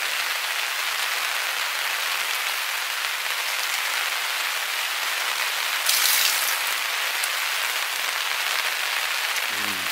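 Steady rain falls on a bushcraft tent pitched with a wood stove, a dense, even patter of drops hissing across the fabric without pause, with a brief louder gust midway.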